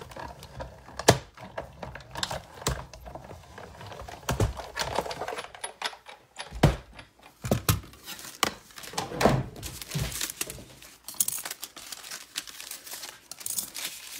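Cardstock and a metal die cranked through a manual die-cutting machine, with busy clicking, crunching and crinkling mechanical sounds, irregular and close, continuing for several seconds without speech.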